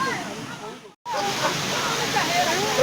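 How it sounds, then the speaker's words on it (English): A waterfall at Obudu Cattle Ranch in Cross River State gives off a broad, steady rushing hiss. After a brief dropout the water sounds on, with voices faint in the background. "This is a waterfall and she's trying to fetch."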